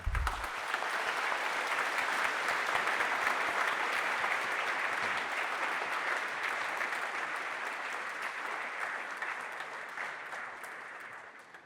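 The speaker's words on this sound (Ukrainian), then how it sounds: "Привітаємо їх оплесками." Sustained applause fills a university graduation ceremony hall, greeting wounded and demobilized soldiers among the graduates; the clapping swells quickly, stays thick and even, then slowly tapers toward the end.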